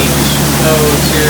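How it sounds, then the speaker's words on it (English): Steady, loud roar of falling water at the waterfall on Magic Kingdom's Jungle Cruise ride, a dense continuous wash of noise heard up close with no break. "the eighth wonder of the world, the backside of water"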